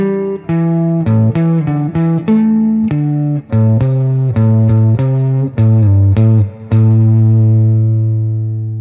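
Rock riff on a heavily distorted electric guitar in first position, a steady run of single picked notes with occasional longer held tones, loud and close, ending on a sustained low note that fades out, with no voices.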